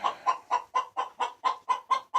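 A broody hen clucks in a steady run of about ten short, evenly spaced clucks, close and clear with no other sounds.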